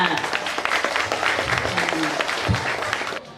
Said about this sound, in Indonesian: Kita beri tepuk tangan yang meriah dulu dong buat Kak Cindy dan Kak Cinta.